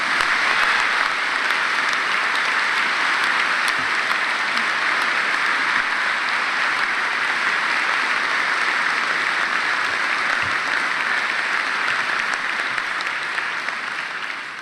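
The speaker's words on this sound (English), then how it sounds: "That's got to be worth a round of applause." Sustained, dense applause from a large audience at a graduation ceremony, steady and loud throughout with no break, many hands clapping together in a hall.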